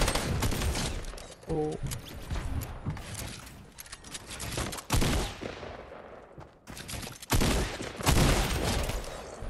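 Fortnite gunfire comes in bursts of rapid shots with gaps between volleys and some mechanical clatter, while a voice briefly exclaims over the action.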